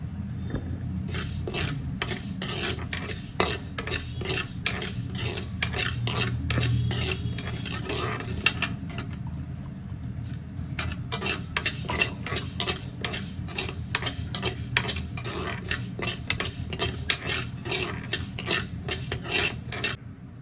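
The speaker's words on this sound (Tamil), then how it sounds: "இப்போ வெந்தயத்தையே அடுப்பையே ஸ்லோவாக வச்சுட்டு நல்லா ரோஸ்ட் பண்ணி எடுத்துக்கலாம்" Fenugreek seeds are roasted in a pan over a low flame while a spoon scrapes and stirs them in a quick, steady ticking rhythm. A soft sizzle runs underneath, close and continuous.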